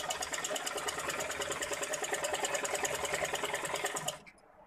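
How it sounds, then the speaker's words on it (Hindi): A sewing machine hums in one loud, continuous run of stitching around the sides of folded fabric on a boat-neck garment, close by, stopping abruptly near the end. "पिन लगा कर हम साइड से चारों तरफ से सिलाई कर लेंगे।"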